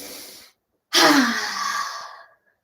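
Slow, audible breathing during a seated meditation: a short breath, a pause of silence, then one long, airy inhale that flows into a drawn-out exhale, close and clear.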